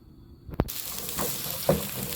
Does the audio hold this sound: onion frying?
yes